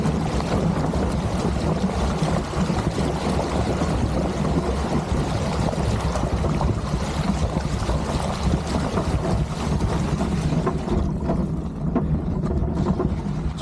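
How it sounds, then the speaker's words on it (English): Fat bike riding through a shallow low water crossing on a rural road: continuous rushing, splashing water with heavy wind buffeting the microphone, loud and steady throughout. "And one of my local low water crossings."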